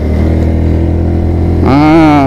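A WMOTO Cruiser 125 AMT motorcycle with an automatic gearbox rides along a highway. Its engine hums in a steady, loud drone, then rises sharply in pitch as it accelerates near the end.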